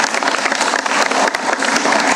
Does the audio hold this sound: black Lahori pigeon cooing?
no